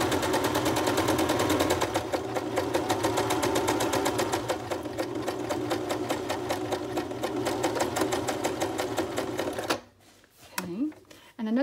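A sewing machine runs steadily with rapid rhythmic stitching for about ten seconds, then stops; brief talking follows.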